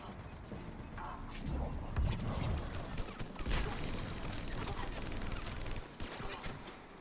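A rapid-fire spinning-up gun in the video game Mass Effect 3 unleashes a dense, sustained stream of gunfire with crashing impacts, loud and continuous for several seconds.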